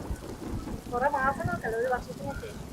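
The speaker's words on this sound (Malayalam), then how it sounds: "ഇവിടെ നല്ല മഴ പെയ്തു ഗായ്സ്" Heavy rain pours steadily over Bangalore in a dense, hissing wash, with a voice briefly speaking over it in the middle.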